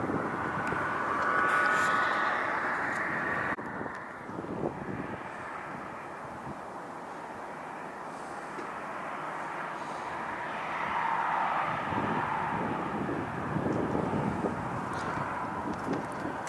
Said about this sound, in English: The plane is almost here